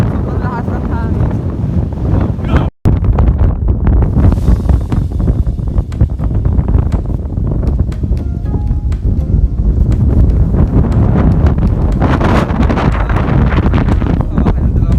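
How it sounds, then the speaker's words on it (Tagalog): Strong wind buffeting a phone microphone on a high, exposed view deck, a loud continuous roar with gusts and one brief dropout, while people talk underneath. "Sobrang lakas ng hangin, guys."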